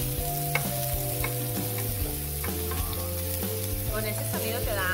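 Samgyeopsal pork belly sizzling and frying in a pan, a steady close crackling sizzle with light stirring clicks and a few faint background tones.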